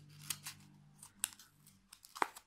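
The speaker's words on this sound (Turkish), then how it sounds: "Diğer uç kısmını ise kesiyoruz." A few sharp scissor snips cutting the end of a knotted cord on a handmade motif-crochet bag, brief close clicks separated by quiet pauses, with light rustling between.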